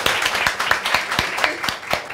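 A studio audience at a Turkish late-night talk show claps in a steady run of sharp, distinct hand claps for about two seconds, fairly loud and close, with no talk over it.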